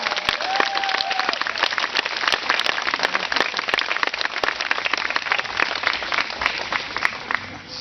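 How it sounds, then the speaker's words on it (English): An audience at a school graduation claps for the graduating class, a loud, dense burst of applause that holds steady for several seconds and then begins to thin at the end. "Give them a round of applause."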